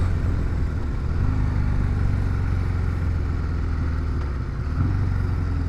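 A 203-horsepower CVO Road Glide ST motorcycle with a Trask turbo under way, its engine droning steadily and loudly with road and wind noise throughout.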